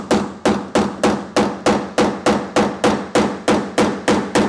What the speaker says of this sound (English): get it directly with that hammer